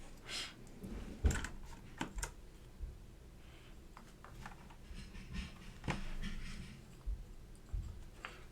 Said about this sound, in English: We're getting all these keycaps on here.